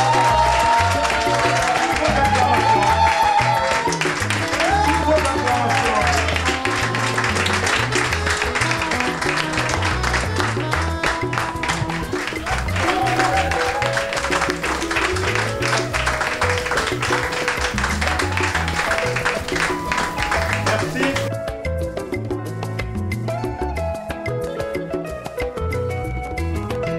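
Wedding guests applaud and cheer in a long, loud crowd wash, with lively music playing underneath throughout and dropping away near the end while the clapping continues.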